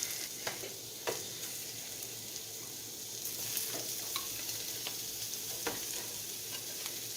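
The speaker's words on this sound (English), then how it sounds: "then we can proceed to put our potatoes in the pan to roast them" Sweet potatoes roast in an oiled skillet. The sizzle is steady and fairly quiet, with a few sharp clicks and pops of utensils or pieces shifting in the pan and no talk.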